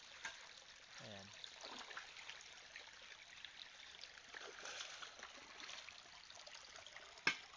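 A small stream trickles and burbles steadily beside a ram pump in Negros Occidental, a faint, continuous wash of water with a brief low sound early on and a sharp click near the end.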